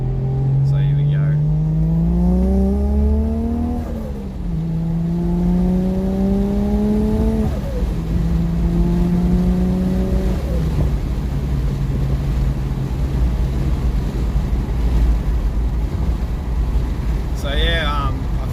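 Toyota JZX110 engine pulling hard on a highway, revs climbing steadily through several gears with clear drops at each shift, then settling into a steady cruise drone with wind and road noise; close and loud, no talking.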